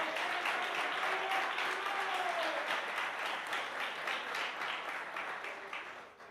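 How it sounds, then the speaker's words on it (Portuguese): A congregation at a church service applauds in a sustained, dense wash of clapping, with a faint sung or voiced tone drifting underneath early on, tapering slightly toward the end. "Quem pode aplaudir e glorificar o nome do Senhor?"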